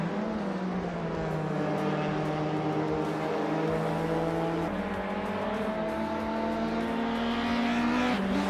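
Racing video game with a Subaru Impreza WRX STI and other race cars: steady, loud, droning engine tones that rise and shift in pitch throughout, with no one talking.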